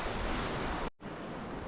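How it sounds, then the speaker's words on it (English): Ocean waves wash steadily onto a Thai beach at Koh Lanta, a broad continuous surf roar with light breeze, briefly dropping out near the middle before resuming at the same level; no voices. "There's a bit of movement in the ocean and a slight breeze from the south"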